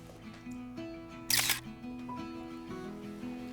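Camera shutter snapping a selfie in an office setting, one short crisp click burst midway through, heard over a faint background hum and tones.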